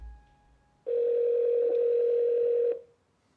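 A telephone dial tone sounds after a faint lead-in, then a steady, loud, unbroken tone holds for about two seconds before stopping abruptly.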